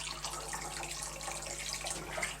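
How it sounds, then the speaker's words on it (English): Hot water runs steadily from a tap into a kitchen sink, a constant close splashing hiss that stays even throughout with no voices. "we've got about a quarter of a sink of hot water"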